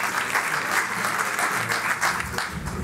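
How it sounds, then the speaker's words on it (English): Audience applause at a conference session on closing the gender gap in Africa, steady dense clapping from a large room that holds at an even level throughout with no voices over it. "Let's give a warm round of applause to Hafez Ghanem as he comes up to share his"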